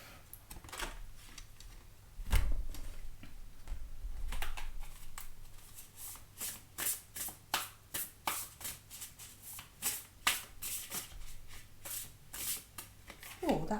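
Oracle cards are shuffled and handled by hand, giving irregular crisp riffles and flicks, some louder bursts, scattered over a quiet room background.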